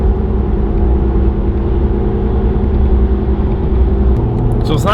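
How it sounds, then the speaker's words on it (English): Ford Raptor on mud tires cruising on a road, producing a loud, steady low rumble and hum of tire and road noise from inside the cabin, constant throughout with a faint tick near the end. "Hear the tire noise? That's gonna get old after a while."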